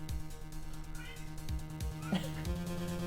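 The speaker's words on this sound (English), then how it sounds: "Cat." A hungry house cat meows insistently, a few short cries rising over a steady background of game music.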